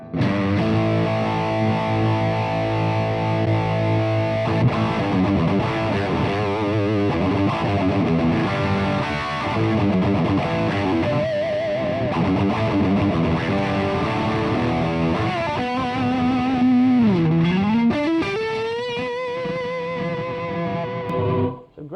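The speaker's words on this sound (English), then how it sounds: "Let's just see what the most heavy channel is. I have the gain cranked." Electric guitar through a BluGuitar Amp1 100-watt Nanotube amp on its heaviest channel with the gain cranked, loud and saturated with long sustain, including string bends and a held note near the end.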